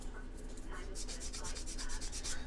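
Close, steady scraping of hand sanding on an AMT USS Enterprise plastic model kit, with rhythmic back-and-forth strokes that grow stronger and more regular after the first second, continuous with no talk over it.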